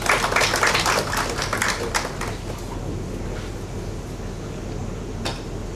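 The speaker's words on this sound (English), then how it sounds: "A huge round of applause for Dr." Audience applause at an international academic conference hall, a dense burst of clapping that starts strong and gradually fades to scattered claps and room noise.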